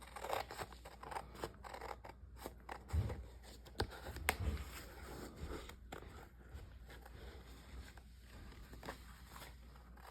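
Scissors snip through a paper cottage craft template in a quiet room, making soft, irregular cuts and paper rustles at close range, faint overall and without talk.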